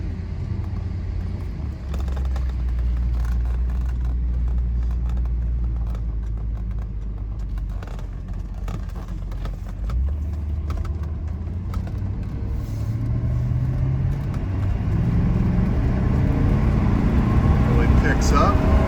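A 1976 Mercedes 450SE drives along with a low, steady engine hum and road rumble from inside the cabin, the engine note climbing gradually as it gains speed, with light ticks and creaks throughout.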